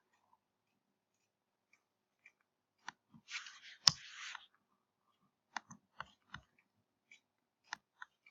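A single Enter keypress on a computer keyboard, a sharp close click set among scattered lighter key taps and a brief rustle, quiet overall with no talk.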